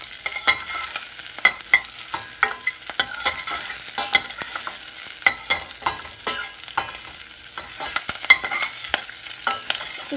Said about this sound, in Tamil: பேனில் எண்ணெய் ஊற்றி நம்ம தாளிக்கிறதுக்கு தேவையான பொருள், அதாவது பட்டை, கிராம்பு, பச்சை மிளகாய், கருவேப்பிலை, ஜீரகம், ஏலக்காய், இதெல்லாம் சேர்த்து